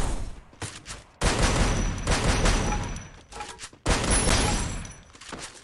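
Gunfire in the mobile battle royale game Free Fire: loud sustained bursts of rapid automatic shooting with short pauses between volleys, close and harsh.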